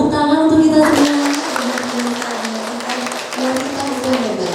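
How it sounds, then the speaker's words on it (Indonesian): Audience applause at an Indonesian talk-show taping about women rises after a voice and continues as a steady wash of clapping for several seconds. "Boleh tepuk tangan untuk kita semua."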